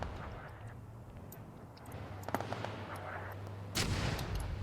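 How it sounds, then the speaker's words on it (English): Artillery shells land in the video game Arma 3, heard as scattered sharp cracks and distant thuds over a low rumble, building to a louder, broader blast near the end. "I hear my artillery coming in."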